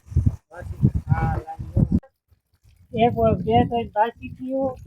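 Cattle low repeatedly at close range, a deep drawn-out moo, then a pause, then more mooing or lowing with varied pitch.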